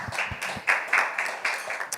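A small youth gathering claps for a speaker, brief scattered hand claps in a room that come in short uneven bursts and fade quickly.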